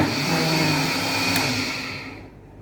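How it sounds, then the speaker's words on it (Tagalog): A kitchen blender whirs steadily as it purees boiled food for a chicken and cream rice casserole, loud and continuous with no talking, the motor winding down and fading near the end. "So, i-blend mo natin yan."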